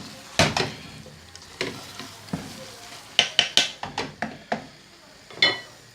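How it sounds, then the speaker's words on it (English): Vegetable curry being stirred in a pan with a spoon, giving repeated scraping, clattering strokes in irregular bursts over a soft background sizzle, close and fairly loud with no talking. "Give it a good stir again."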